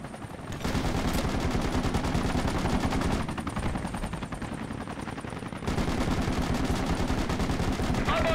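Sustained automatic gunfire from the Vietnam-era Charlies Point map in the game Project Reality, long rapid bursts rattling almost without pause, broken by a brief dip before the firing resumes, loud and continuous.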